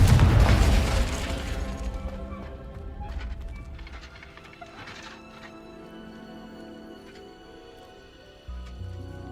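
A Confringo explosion spell goes off in the video game Hogwarts Legacy, a loud, deep blast that fades into a rumbling tail, with faint clattering game sounds after it.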